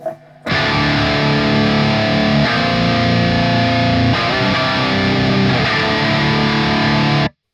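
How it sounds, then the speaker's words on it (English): A heavily distorted electric guitar played through an EL84 tube amp rings out loud and sustained, thick with buzzing harmonics, chords shifting a few times before cutting off abruptly. "the distortion, that complex distortion with all the harmonics is just doing this"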